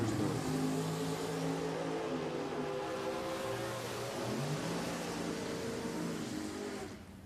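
A sponsored drag racing dragster at Richmond Dragway, its engine roaring loud and sustained as it accelerates down the strip, the pitch climbing in stepped gear changes and the sound staying close and powerful for several seconds.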